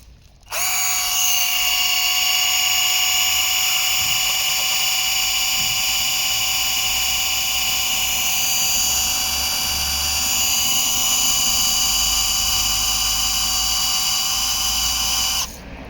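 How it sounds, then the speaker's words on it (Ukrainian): A cordless drill spins a Yato drill-powered pump, running steadily in first gear and then shifting up to a higher-pitched second gear, a loud continuous whine with strong tonal bands that holds for about fifteen seconds with no talking. "Це на першій передачі шуруповерт, а це на другій."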